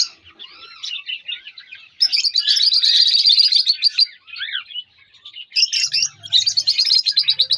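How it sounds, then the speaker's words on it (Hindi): Pet lovebirds and parrots chirp and tweet close by in dense, rapid bursts with short pauses between, and a low hum briefly joins toward the end. "माशाल्लाह खूबसूरत परिंदे और इनकी आवाज़ें आपको बहुत पसंद आएंगी"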